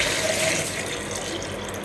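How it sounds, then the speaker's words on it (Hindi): Water pours steadily from a container onto lemons in a kitchen vessel, making a continuous splashing, gushing flow. It sounds close and even throughout, with no talking. "मैं इसमें पहले पानी डालूँगी"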